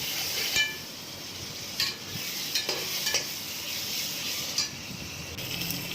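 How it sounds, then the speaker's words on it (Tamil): Ginger garlic paste is stirred with onions in a hot pan for chicken biryani, giving a steady sizzle with light scraping strokes and a few sharp spoon-on-pan clicks, close and continuous. "இப்போ இஞ்சி பூண்டு பேஸ்ட்டு ஆனியனோடு மிக்ஸ் பண்ணி நல்லா கிளறி விட்டுக்கோங்க"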